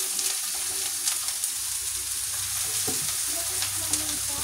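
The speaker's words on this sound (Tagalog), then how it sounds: "Gigisa na po natin." Ampalaya and eggs sautéing in a pan give a steady, close sizzle and hiss throughout, broken by occasional scrapes and clinks of stirring.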